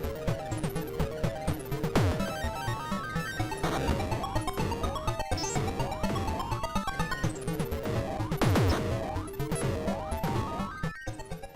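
Nintendo Virtual Boy game audio using six sound channels, a dense, busy stereo mix of chiptune melody, layered bleeps and crashing effects that plays continuously at full level.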